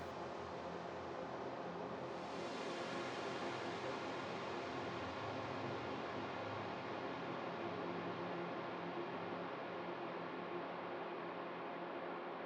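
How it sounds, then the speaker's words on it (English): A soft, washy wash of noisy reverb from a dub techno production hangs steady and diffuse, a ghostly hiss that barely changes over its length. "it's just this ghostly, washy, noisy reverb"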